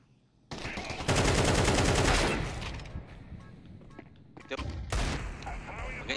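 Gunfire in a shooter video game: a loud sustained burst of rapid shots, then a lull and a second sharp volley, with voices talking between the bursts.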